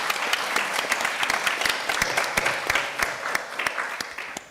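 Workshop audience applauding: dense, steady clapping from many people with distinct sharp claps throughout, fairly close, slowly tapering toward the end.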